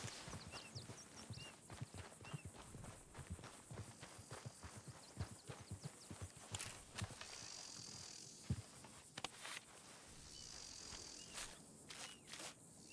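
Horses walking in the Red Dead video game, their hooves clip-clopping in a steady, fairly close rhythm over a constant background of chirping crickets and insects, with a few sharper knocks along the way.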